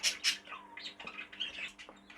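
Caged birds, a cinnamon grey green cockbird and a cinnamon light green opaline hen, squawk and chatter close by, with two loud sharp calls at the start followed by a busy run of scratchy chirps and squeaks.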